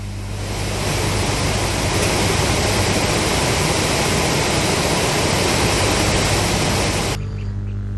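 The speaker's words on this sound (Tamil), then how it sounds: "திருநெல்வேலி மாவட்டம் களக்காடு அருகே உள்ள மணிமுத்தார் அருவியில் நீர்வரத்து அதிகரித்துள்ளது" Manimuthar waterfall near Kalakkad in Tirunelveli district, running with increased flow, a dense, steady roar of falling water that stays loud for about seven seconds before abruptly dropping away.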